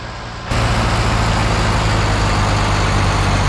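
A tuned combine harvester with an open exhaust in Farming Simulator kicks in abruptly and holds a loud, dense, continuous rumbling drone, steady and close.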